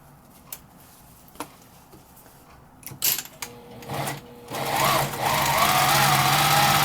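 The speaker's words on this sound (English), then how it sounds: "And then I'm going to sew right along that edge again." A sewing machine stitching along the edge of a zipper bag starts with a few isolated clicks, then runs in short bursts before settling into a steady, fast stitching whir.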